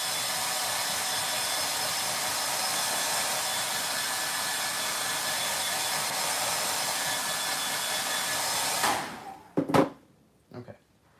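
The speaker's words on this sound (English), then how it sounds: "Blow dryer, sorry." A blow dryer runs steadily and loud for about nine seconds during a live Air Force 1 sneaker painting session, drying shadow paint, then cuts off, followed by a few short knocks and handling sounds.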